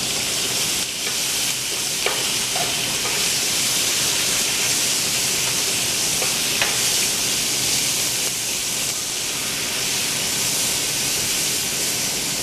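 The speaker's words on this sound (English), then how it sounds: "As this is searing" A roast sears in a hot pan, a continuous bright sizzle and hiss holding steady throughout with a few faint clinks of cookware, no voices.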